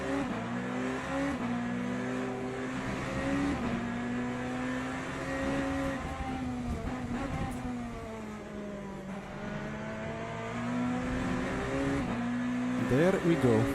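A Porsche race car engine in the racing sim Le Mans Ultimate, a sustained droning whine that rises and falls through gear changes, with a sharper rev sweep near the end, a voice talking over it.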